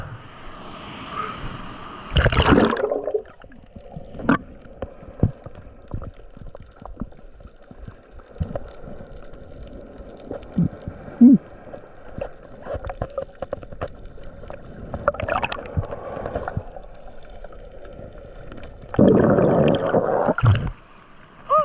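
Rough sea waves slosh and gurgle against a small fishing boat, with intermittent louder splashes and rushes of water over a low, uneven background, close by.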